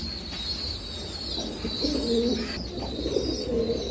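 Silky Lakka pigeons in a breeding loft give soft, low cooing calls in short repeated bursts, close by, over a constant background hum.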